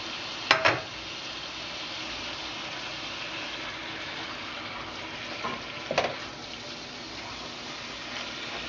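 Pork tamale filling simmers in sauce in a pan, giving a steady low sizzle and bubble throughout with a couple of brief clinks of a utensil near the start and again midway.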